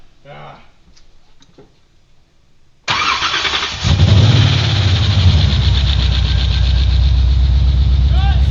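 A Hellcat V8 swapped into a Nissan 350Z cranks briefly and then fires up, settling into a loud, steady, rumbling idle close by, after a few seconds of quiet voices and background noise.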